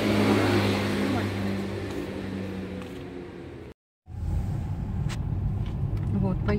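Car driving along a street on the way to a cafe at the end of the road, steady loud engine and road rumble with a brief cut in the middle, with some talk nearby.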